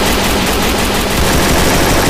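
Gunfire in the mobile battle game Free Fire: a dense, loud, continuous burst of rapid automatic shots with no pauses.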